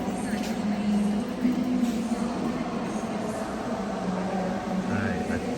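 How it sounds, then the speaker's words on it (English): Ambience inside a large train station in Lviv, Ukraine, after dark: a steady low rumble and hum of rail machinery, with a diffuse wash of distant voices throughout. "this is an awesome train station"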